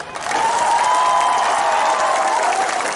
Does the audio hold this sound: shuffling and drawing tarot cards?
no